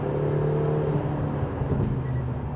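A Lotus Emira 2.0 First Edition, driven in sport mode with manual paddle shifting, hums along with a steady low engine drone and road noise from inside the cabin.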